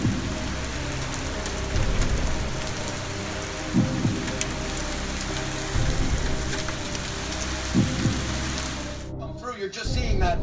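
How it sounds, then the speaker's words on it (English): Heavy rain pours down during a severe thunderstorm, a dense, constant roar of drops with a few deep rumbling bursts mixed in, before the downpour drops away abruptly at the end. "You're just seeing that fierce rain, the lightning, the thunder, the wind"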